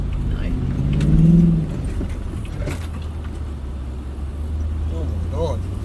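A Nissan Patrol Y62 rolls slowly along a narrow bush track, its engine giving a low steady rumble that briefly swells, with scraping and brushing noises and people talking over it.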